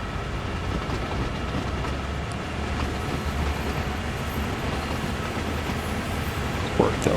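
Train Sim World 3 locomotive on the Peninsula Corridor using dynamic braking downhill, a steady dense rumble and roar with faint clatter, unbroken throughout and fairly loud.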